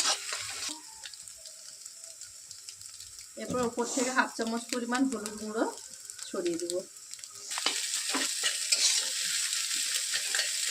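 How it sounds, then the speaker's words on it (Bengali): Three eggs scramble and fry in a pan, with a soft sizzle and the scrape of a spatula breaking them up, while someone speaks over the cooking in the middle stretch. "এবার ডিমটাকে ভালো করে ঝুরঝুরি করে ভেজে নেব।"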